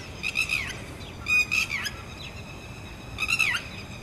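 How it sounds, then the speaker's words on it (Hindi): Lapwings calling outdoors: three bursts of shrill, repeated cries, fairly close and clear, separated by short gaps over a quiet background. "ये टिटेरियाँ भी अभी टैटर करेंगी"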